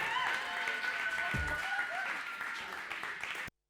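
Audience applause for a comedian leaving the stage at a stand-up comedy show, a steady broadband clatter of clapping throughout with some voices mixed in, stopping abruptly near the end.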